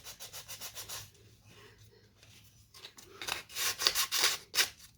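Rhythmic rasping strokes of sandpaper on a wooden folk-art rooster, a quick run of back-and-forth rubs, a quieter pause, then louder, harder strokes close by.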